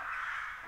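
A crow caws once near apartment balconies, a loud, close, harsh call held steadily for under a second with no other sound.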